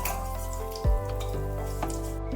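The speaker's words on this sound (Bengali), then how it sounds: "ফোড়নটা অবশ্যই তেলের সাথে ভালোভাবে একটু নেড়ে নিতে হবে।" Panch phoron spices frying in hot oil for a tomato chutney, a steady close sizzle with a soft thump near the start and faint stirring clicks, no voices.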